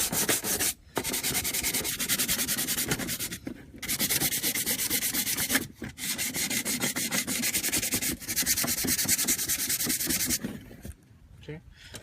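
Steady back-and-forth sanding of a carbon fiber hood vent for a 2015-2017 Mustang GT with 150-grit sandpaper, close and continuous with a few brief pauses between strokes.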